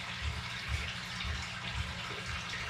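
Water pours steadily into a red-eared slider turtle habitat tank, a constant close rushing and gurgling with a low churning undertone and no pauses or voices.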